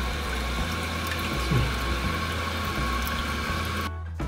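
Water runs from a newly installed faucet at a steady, fairly loud rush, with a low pump-like hum underneath, until it cuts off abruptly near the end.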